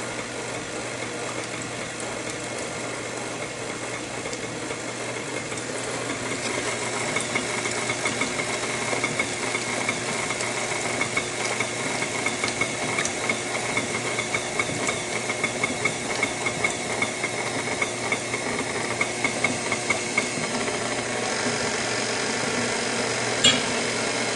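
An electric mixer whirring steadily as it blends heavy whipping cream with half and half, a continuous motor hum with faint rattling ticks building slightly over time, no speech.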